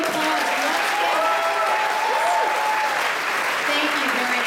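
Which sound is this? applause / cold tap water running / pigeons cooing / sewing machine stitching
applause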